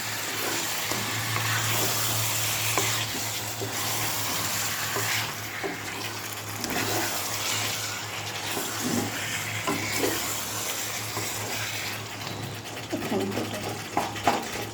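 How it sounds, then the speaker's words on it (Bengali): Meat sautés dry in a pan without water, giving a continuous close sizzle with intermittent stirring scrapes over a steady low hum, and no clear talk. "মাংসটা শুধু কষানো হবে তো, তাই জল করবে না।"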